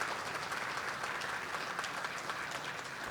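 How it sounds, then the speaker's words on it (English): A crowd at an outdoor mural dedication claps in steady, dense applause, heard faintly and from a distance. "could you please let the organizers know by another rounding hand of applause?"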